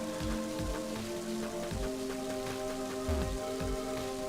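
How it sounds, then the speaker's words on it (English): Steady cold rain falling in the video game Mother 3, a dense continuous patter with low rhythmic thumps from game music underneath, no voices. "That's a cold rain."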